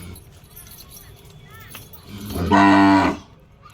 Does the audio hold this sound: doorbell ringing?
no